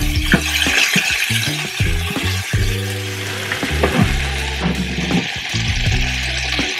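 Garlic sizzling in a hot frying pan during Sunday brunch cooking, a steady loud hiss and crackle with occasional clinks and scraping as it is tossed around, close and continuous.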